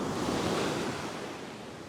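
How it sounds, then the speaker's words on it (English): Ocean waves break along the shore on a sunny fishing beach, giving a steady, fairly faint wash of surf with a breezy, hissing texture and no voices. "I wait for a gap in between the waves"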